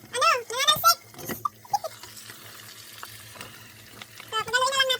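Pork and vegetables stir-fried for pansit, with intermittent soft sizzling and stirring clatter, mostly quiet between loud bursts of speech at the start and end.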